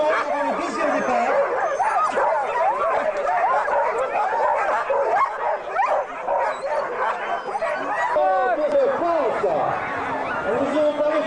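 A pack of sled dogs at the start of a sled dog race yelps, barks and whimpers excitedly in a dense, continuous chorus nearby, with people talking over the commotion.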